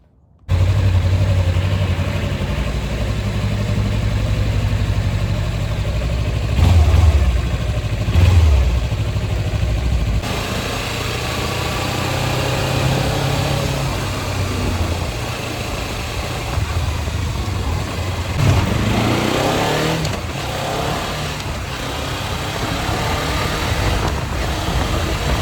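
A motorcycle ridden through town toward a burnout spot, its engine droning steadily and close with a few rev surges and shifts, easing to idle at a stop before pulling away again.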